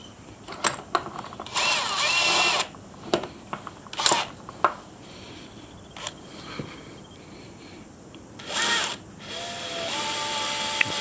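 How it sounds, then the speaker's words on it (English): A cordless drill on low speed turns a tap seat cutter in a leaking household tap, giving several short, close whirring bursts separated by clicks and handling noises, with no talk. "Now I'll turn this with a cordless drill on low speed."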